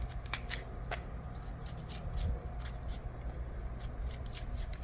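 A spoon scrapes the seeds out of a halved, washed Korean melon, making repeated short, crisp scraping strokes that come close and fairly quiet, with no talking.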